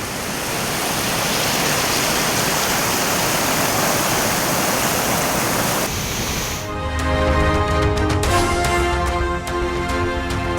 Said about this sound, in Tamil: காட்டாற்று வெள்ளத்தால் அகத்தியர் அருவியிலும் தண்ணீர் கொட்டுவதை அடுத்து சுற்றுலா பயணிகளுக்கு தடை